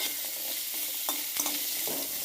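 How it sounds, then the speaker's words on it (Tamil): Onions and cut yellow pumpkin sauté in a pan for a pumpkin masala gravy, giving a steady sizzle and fry with a few stirring scrapes and clinks, close up and with no voices. "இப்போது வெங்காயத்தை நல்லா வதக்கி விட்டுக்கோங்க. ரொம்ப சின்ன வெங்காயத்தை வதக்கணும்னு அவசியம் கிடையாது."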